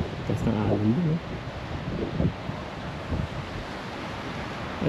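Ocean waves wash over a rocky shore with steady broadband surf and wind buffeting the microphone, someone talking over it at the start.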